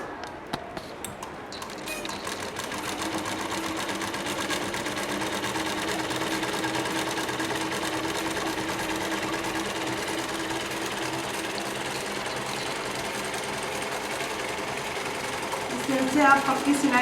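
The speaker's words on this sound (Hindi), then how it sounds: "अब इसके ऊपर से साइड पे एक और हम सिलाई लगाएंगे" A sewing machine runs a continuous double seam on fabric, its steady rapid stitching hum filling the whole stretch up close, with brief handling noises before it starts and near the end.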